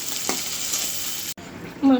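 Fish fries with onion and green chili in a pan, giving a bright, continuous sizzle that cuts off briefly before a short louder stir at the end.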